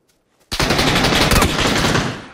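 Loud, dense burst of automatic gunfire in the video game PUBG, starting abruptly after half a second of near silence and continuing as a rapid, sustained volley to the end.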